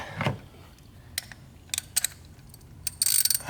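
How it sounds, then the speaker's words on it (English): A ratchet wrench clicks in short separate bursts while tightening a spark plug on a 2014 Honda Civic, close up and crisp, ending in a quicker run of rapid clicks, with no talking. "Switch our ratchet around, and right about there, that's where I like to tighten mine."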